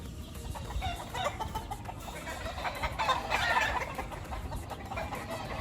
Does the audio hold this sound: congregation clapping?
no